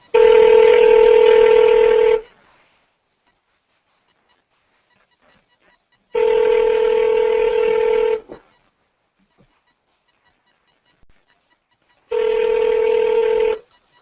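A telephone call ringing through to voicemail: three loud, steady ringback tones, each about two seconds long, separated by roughly four seconds of near silence.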